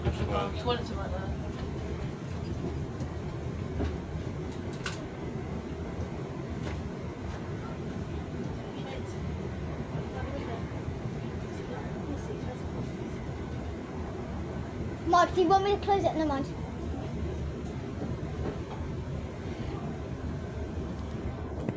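Inside a passenger train carriage on the route from Brockhurst toward Southampton Central, a steady low rumble of running wheels and motor continues throughout, with people talking nearby over it.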